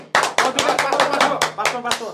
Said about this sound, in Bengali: সুরাইয়া সুলতানা পাপড়ির জন্য একটা হাততালি